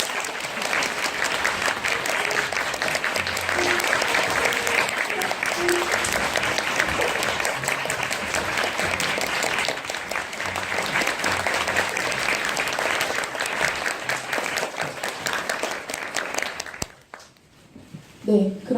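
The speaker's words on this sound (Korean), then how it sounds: "큰 박수로 맞아주시기 바랍니다." A theatre audience at a post-show talk for the play Orphans gives sustained, hearty applause as the director and actors come onstage, a thick, even roar of clapping that stops abruptly near the end.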